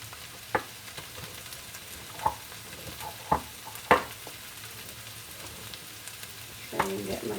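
Kale sautéing in a pan sizzles steadily and close, with occasional sharp clinks and scrapes of stirring standing out from the hiss.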